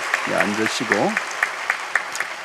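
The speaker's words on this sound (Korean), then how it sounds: "우리 박수로 여러분들 격려해 주시기 바랍니다." A voice speaks briefly over a church congregation clapping at a baptism service, the applause continuing steadily after the talking stops.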